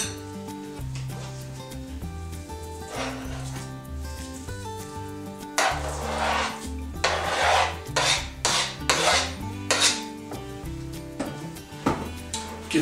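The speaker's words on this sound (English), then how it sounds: "Give that a good stir." A spoon stirs a sweet potato and pineapple casserole mixture in a bowl with close, scraping, rubbing strokes in uneven bursts over soft background music.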